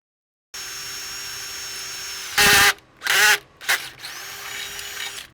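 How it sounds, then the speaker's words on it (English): A steady electric hum is broken by three short, loud bursts of a power drill whirring as it drills a hole while installing a Hydro-Shield, the last burst briefest. "and we drill our third hole"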